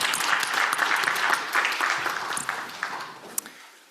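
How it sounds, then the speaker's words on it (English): Conference audience clapping after a presentation at a session on synthetic oligonucleotides, a dense burst of many hands that gradually thins and fades over a few seconds, with no voices over it. "give our speaker a round of applause for their very nice presentation"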